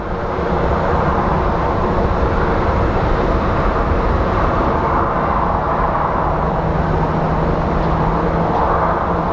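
A jet airliner departing Phoenix Sky Harbor for San Diego produces a loud, continuous low engine roar that holds steady throughout, with no speech over it.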